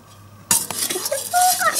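After a brief quiet moment, a spoon scrapes and clinks against a bowl of jelly mixture in quick, uneven strokes, close and fairly loud.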